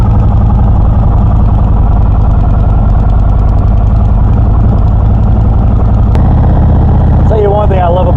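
A 2018 Indian Roadmaster motorcycle engine runs loud and close, holding a steady throbbing idle throughout, with a sharp click partway and a shift in the engine note near the end.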